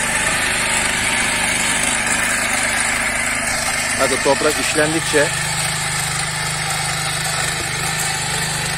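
A Kaan 26S motor tiller runs in a vineyard and garden plot, its small engine giving a steady, close drone throughout while someone talks over it.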